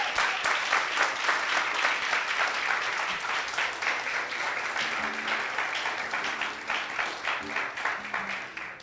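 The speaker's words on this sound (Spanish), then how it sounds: "Denle un aplauso a Él." Church congregation claps during a sermon, a moderately quiet crowd applause with a loose, pulsing rhythm that continues steadily, while faint voices and tones emerge in the latter half.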